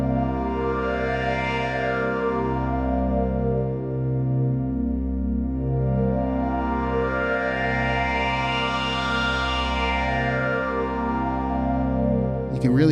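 A Waldorf Quantum synthesizer patch plays a rich, sustained tone whose two filters sweep up and down together, rising and falling in slow waves, loud and continuous with a brief glitchy burst at the end.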